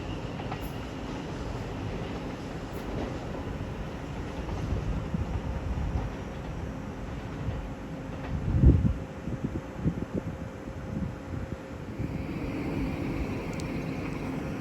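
A Class 700 unit, 700-120, runs the 12:47 Horsham to Peterborough service through East Croydon station on the Brighton Main Line. Its low rumble stays steady throughout, with one sharp clunk partway through and no talking.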